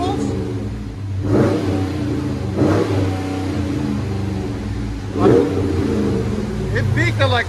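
A muffler-deleted Dodge Charger Scat Pack with the 6.4L HEMI V8 revs in several loud, close bursts over a steady rumbling idle, with people talking throughout.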